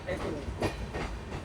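A passenger train, sleeper class, runs on its rails during an Indian rail journey: a steady, close rumble with faint rhythmic clatter throughout, with murmured voices faintly in the background.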